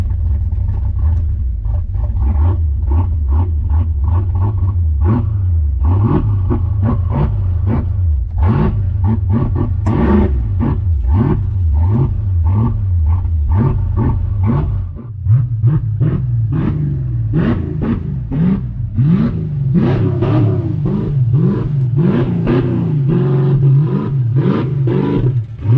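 A 1987 Ford Mustang GT convertible runs under its own power, its V8 rumbling loud and close with repeated revs and a lumpy, uneven idle that swells and settles throughout.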